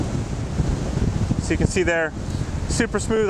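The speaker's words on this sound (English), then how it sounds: "the winds are gusting upwards of 60 kilometers an hour and above" Strong wind gusting at over 60 km/h buffets the microphone at a pier, a loud, constant roaring rush, while someone talks over it in the second half.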